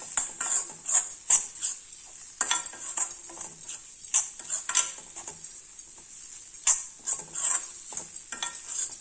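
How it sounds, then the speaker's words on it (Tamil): Continuous hiss of spices sizzling in hot oil while cooking a kuzhambu, with repeated scraping and clinking as a spoon stirs the pan, close and steady. "இதில் எண்ணெயிலேயே கொஞ்சம் வதக்கிக்கோங்க."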